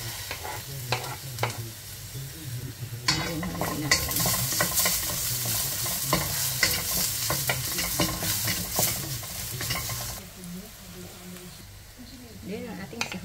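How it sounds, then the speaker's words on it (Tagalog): Garlic hits hot cooking oil in a pan with minced pork nearby, giving a bright, hissing sizzle that swells in the middle, broken by scraping stirs and light clinks of a utensil against the pan. "Lagay tayo ng cooking oil. Add natin ang ating garlic."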